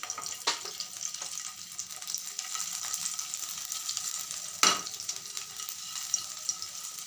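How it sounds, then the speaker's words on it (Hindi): Steady sizzling of garlic cloves frying in hot oil, close up, with a couple of sharp louder crackles and faint stirring sounds. "इसमें हम डालेंगे लहसुन। हमने 5 से 7 लहसुन की कली ली है। इसे हम हल्का सा भून लेंगे।"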